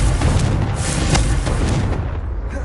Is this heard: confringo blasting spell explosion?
yes